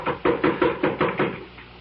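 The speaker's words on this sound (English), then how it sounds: "Open the door, Scotty" Knocking on a door as a radio drama sound effect: six firm, evenly spaced raps, close and clear, then silence.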